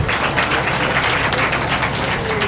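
Dense, steady applause from a large crowd at a close-out event on recycling and the circular economy, filling the whole moment at an even level with no voices over it.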